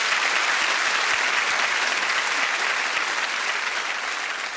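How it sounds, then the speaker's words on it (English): A live theatre audience claps for a performer on a 1986 variety show, dense even applause filling the whole stretch at steady loudness without speech. "Give him a clap."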